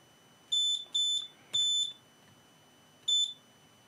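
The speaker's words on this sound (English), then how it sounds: "Yeah, the capacitor got charged. That's the reason why it's beeping." A Lenovo Legion 7 16ACHg6 laptop motherboard, damaged by liquid, gives four short, high electronic beeps as its capacitor charges, three in quick succession then one more after a pause, clear over a quiet background.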